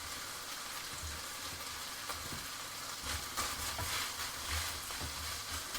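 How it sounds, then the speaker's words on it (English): Austrian Gröstl of bacon, sausage, loin, ham and fried potatoes simmers in a pan, giving a steady, close, rain-like sizzle with crackling pops that grows a little louder partway through, with no talk. "I'm just going to let that simmer away"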